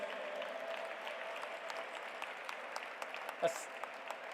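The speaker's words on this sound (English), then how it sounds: "Please give him a big round of applause, friends." Steady applause from a large audience at the G20 Interfaith Summit session, moderately distant and even throughout, with a brief thump partway through.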